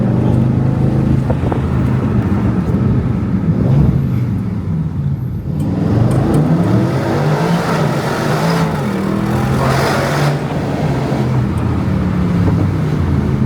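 An Aston Martin Vantage sports car driven hard along curvy mountain roads, with an engine drone that rises and falls through the turns under heavy wind rush, continuous and close throughout.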